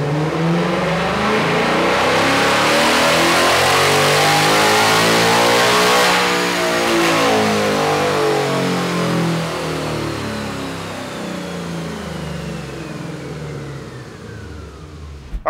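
A 2024 Ford Mustang GT with its carbon traps removed revs hard during a dyno pull. The loud engine note climbs steadily through the gears-free sweep, then eases off near the end, with no talking.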